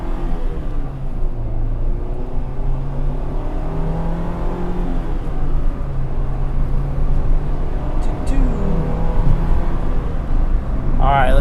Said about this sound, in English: I hope you guys can hear that rev matching.